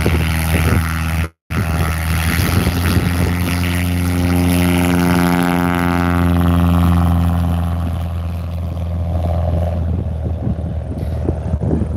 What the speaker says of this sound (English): So that Husky, with the reverse pitch prop, lives on floats half of the year.